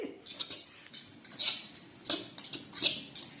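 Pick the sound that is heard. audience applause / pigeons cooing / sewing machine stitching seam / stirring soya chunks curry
stirring soya chunks curry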